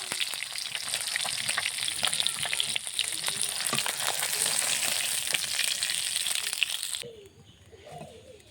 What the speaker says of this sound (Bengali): মাছগুলো ভেজে সুন্দরভাবে